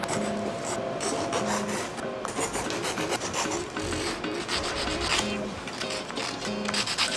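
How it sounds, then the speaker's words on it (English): A hand file scrapes a 3D-printed part to remove splinters, making close, repeated rasping strokes in a steady back-and-forth rhythm with brief gaps between passes. "this has been giving me splinters, so I'm going to hand file this right now"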